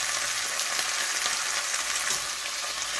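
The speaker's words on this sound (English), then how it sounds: "So I'm sort of sauteing" Rosemary garlic lamb chops sauté in a pan with a little water, giving off a steady, close hiss and sizzle that stays even and unbroken throughout.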